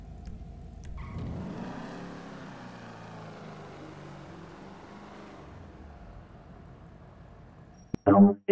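A 1969 Yenko Camaro's engine in GTA 5 rises into a low rumbling rev, holds, then slowly fades away, ending in a brief loud burst.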